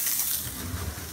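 Spam slices fry in a pan while cooking a Spam sandwich, giving a steady close sizzling hiss with a low rumble underneath and no break across the moment.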